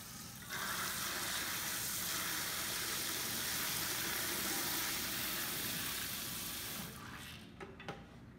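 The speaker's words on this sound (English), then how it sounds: "Here is what the water sounds like." Steady rushing water runs continuously for several seconds at close range during a hair shampoo at a salon, then tapers off near the end.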